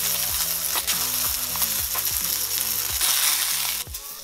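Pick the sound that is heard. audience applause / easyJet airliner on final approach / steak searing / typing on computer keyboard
steak searing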